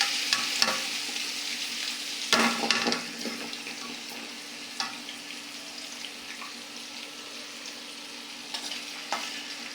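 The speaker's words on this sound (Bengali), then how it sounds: "পেঁয়াজটা আমি সুন্দর করে ভাজা দিয়ে নেব।" Onion and chopped green chilli fry in hot oil in a wok, giving a steady close sizzle with occasional stirring clatter and scraping of a spoon against the pan.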